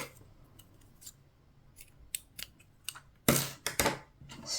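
Scissors snip through crochet yarn in a few sharp, close cuts, with quieter handling clicks before and a louder cluster of snips near the end, no voices.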